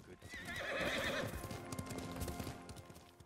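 A horse in Ghost of Tsushima clip-clops on hooves and lets out a loud whinny early on, followed by continued hoofbeats and game ambience.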